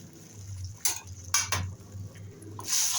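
A spoon stirs salt and turmeric powder into lemon rice in a metal pan. A low hum sits under several short scraping clinks of utensil on metal, with no talking.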